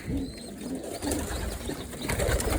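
Pigeons coo softly close by, with faint rustling and wing movement, no voices.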